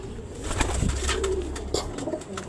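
Pigeons being dosed one at a time with tablets for one-eye cold coo steadily up close, a low, throaty, repeating murmur that runs throughout with no talking.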